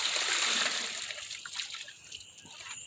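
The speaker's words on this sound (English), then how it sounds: "I go ahead and give them a rinse anyway" Running water splashes and trickles as sanitized plastic seed trays are rinsed, a steady close wash that thins out after the first second, with no talking.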